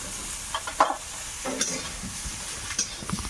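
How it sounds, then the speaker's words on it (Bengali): Cauliflower seasoned with a little salt and turmeric fries in a small amount of oil in a wok, a soft crackling sizzle broken by clinks and scrapes as it is stirred, close by with no talking. "ভাজা হয়ে গেছে উঠিয়ে নেব"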